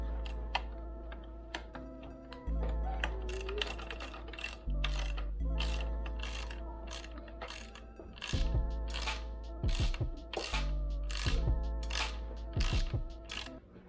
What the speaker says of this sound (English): This one requires a 8mm, and you're gonna tighten them down as well.